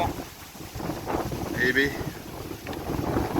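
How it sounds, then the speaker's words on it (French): Steady wind noise rushing across the microphone, with someone speaking briefly over it and a faint tonal whine in the middle. "Vous entendez le vent?"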